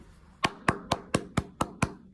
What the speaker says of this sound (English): let's give these NBA players for a round of applause